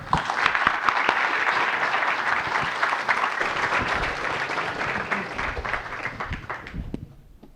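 A conference audience welcomes a speaker with sustained applause, a dense wash of many hands clapping that holds steady for several seconds and then fades out near the end.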